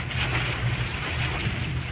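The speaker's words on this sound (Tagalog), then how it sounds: "Grabe, ang lakas ng ulan." Heavy rain pours steadily in a dense, constant roar with a low rumble underneath, heard alone without voices.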